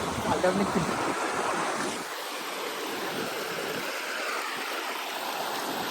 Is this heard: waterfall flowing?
yes